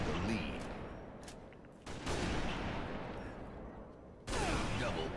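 Sniper rifle shots in the Halo video game, a few sharp cracks spaced a couple of seconds apart over a steady din of game noise, fairly faint overall.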